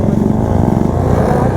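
A KTM RC or Duke 250 motorcycle engine drones loud and close at steady high revs during wheelie stunt training, a continuous buzzing roar with no talk.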